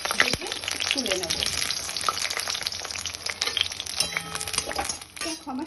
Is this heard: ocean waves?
no